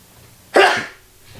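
One short, loud sneeze or cough-like burst, close and abrupt, fading quickly into quiet room tone.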